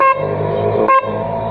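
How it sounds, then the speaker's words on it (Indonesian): A 350 Hz snail horn on a motorbike, wired through a relay, gives two short, loud, close honks with a sustained buzzy tone between them. "Ini kita coba ya klaksonnya."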